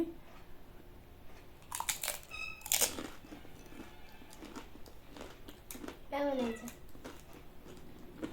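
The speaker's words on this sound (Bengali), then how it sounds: "রূপসার হাতের ফুচকায় দেখো খাচ্ছি" Crisp crunching bites of fuchka (pani puri) at a home snack session, a few sharp crackles close to the mic amid chewing, with people talking around them.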